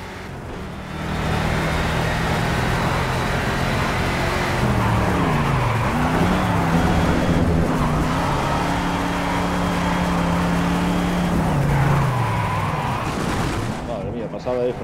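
Race car engine in Project Cars on the Oulton Park circuit, a heavy car, droning loudly and continuously with pitch rising and falling through gear shifts and braking, up close throughout with faint tire noise.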